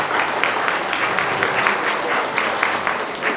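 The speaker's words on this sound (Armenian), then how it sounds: "Շնորհավորենք ծափահարով։" Applause fills a solo art exhibition opening marking painter Anatoli Avetyan's 70th birthday, a dense, steady patter of many hands clapping close by throughout.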